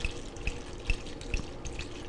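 White wine is poured while cooking, a steady liquid splash with a few rhythmic glugs from the bottle, close and fairly quiet, with no talking.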